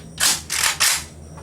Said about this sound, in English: Now, take it, cock it back.